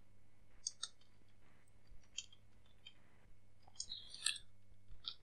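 Computer keyboard keys clicking in short scattered bursts while code is typed, light and close, with brief pauses between strokes and no talking.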